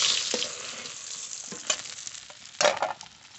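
Pieces of katla fish frying in hot oil give a steady close sizzle, with a few sharper spatters and the scrape of turning standing out now and then.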